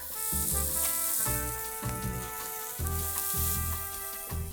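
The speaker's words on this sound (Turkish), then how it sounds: "Köfteleri de zaten sıcak. Hemen koyuyorum cız diye ses çıkacak." Meatballs sizzle in a hot pan with a steady crackling hiss that runs throughout, close and fairly loud, and no one speaks.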